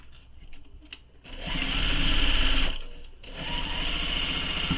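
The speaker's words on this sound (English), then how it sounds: "then we're going to sew this with the seam allowance given in the pattern" A sewing machine stitching a tote bag seam runs in two loud, steady bursts with a short pause between them, close to the listener, after a few quiet handling sounds at the start.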